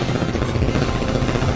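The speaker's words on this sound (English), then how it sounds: "Get to the chopper!" Helicopter rotor and engine noise from the film Contra, a steady loud broadband thrum with strong low-end beating that carries evenly through the whole moment with no speech.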